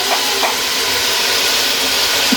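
Meat fries in a pan with a splash of soy sauce for Uyghur lagman, giving a loud, continuous sizzling hiss with faint small pops and no voices.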